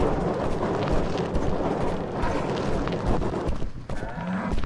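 A cow mooing in the video game Suicide Guy, a loud drawn-out low moo over dense game noise, with no talking.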